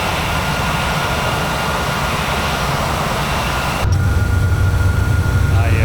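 A steady airplane engine drone from a flight simulator game holds at a constant pitch throughout, loud and close, then shifts to a deeper, heavier hum partway through.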